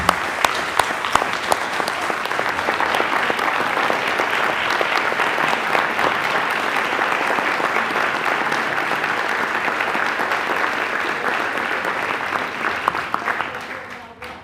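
Sustained applause fills a city council chamber in Chicago, steady and dense for the whole stretch before tapering off at the very end, with no one talking over it.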